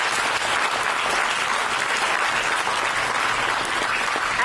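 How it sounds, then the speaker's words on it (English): Audience applause at a lab valedictory function, a steady, dense, evenly sustained round of clapping from many people, moderately loud and unbroken with no speech. "Please clap for the collage."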